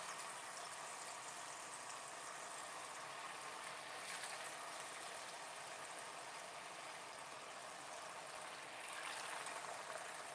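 Food frying in hot oil for a banh mi inspired sandwich, a steady, faint sizzling hiss that runs continuously and evenly throughout, with no talking over it.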